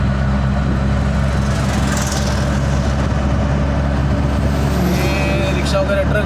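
An auto rickshaw drives along a city road in Boisar, its engine giving a steady, close low rumble with constant road noise and no clear breaks throughout.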